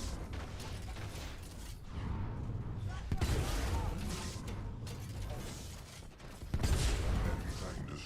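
Titanfall thermite launcher and weapons fire: heavy mechanical clanks, bursts of gunfire and booming blasts come in surges, with a strong hit around the middle and another near the end, under in-game voices.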